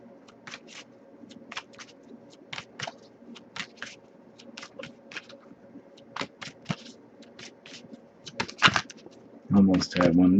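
Tarot cards being shuffled by hand, a run of light papery clicks and riffles over low room noise, ending in a louder dense burst of card flutter; a voice is faintly present.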